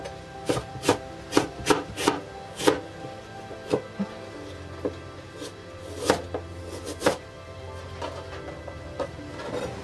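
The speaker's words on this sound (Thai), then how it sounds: "เดี๋ยวเราก็จะมาหั่นหรือว่าสับเป็นชิ้นเล็กๆค่ะ" A knife chops an unpeeled apple into small pieces on a cutting board, sharp distinct thuds in an uneven rhythm, close and clear, with brief pauses between bursts.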